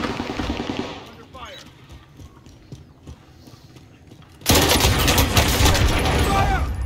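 Call of Duty Rebirth Island match with dense automatic gunfire that bursts in loudly and continuously in the second half, after quieter ambient game noise with distant scattered shots.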